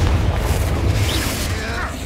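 Heavy booming blast from the Confringo fire spell in the video game Hogwarts Legacy, a loud sustained rumbling explosion with deep low-end weight that fades slowly across two seconds.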